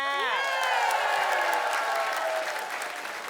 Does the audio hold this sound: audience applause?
yes